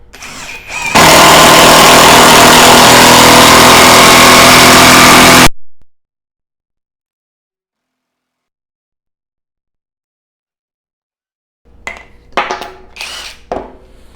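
A Dong Cheng 1/2-inch cordless impact wrench runs in one loud, sustained burst of about five seconds, then cuts off abruptly to silence before a few quieter clattering hits near the end.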